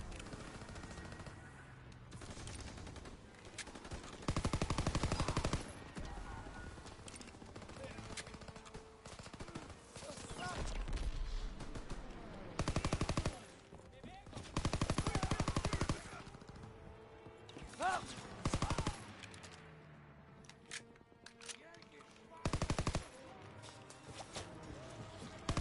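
Repeated bursts of automatic and single-shot gunfire from a WWII-era shooter video game, including a PPSh submachine gun, crack loudly in clusters over continuous battle noise, with shouted voices in the mix.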